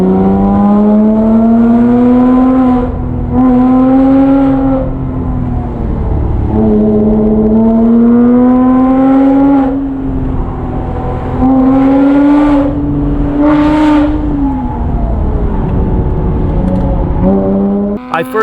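A Porsche Boxster S fitted with a valved aftermarket catback exhaust revs loudly and close, climbing and falling through repeated throttle blips with a deep, rising engine note and no talking.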